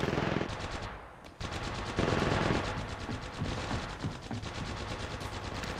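Sustained automatic weapon fire in the Apex Legends video game, loud rapid bursts with short pauses and mechanical reloading clatter between them, no talking.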